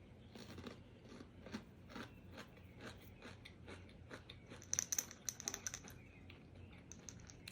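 Close crisp crunching and chewing of raw, tender young bok choy leaves, steady repeated bites with a sharper burst of crunches near the end, heard alone without talk.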